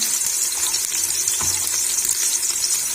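Chopped onion and garlic frying in a pan for a dhaba-style dal, a steady close hissing sizzle filling the whole stretch with a brief stir partway through.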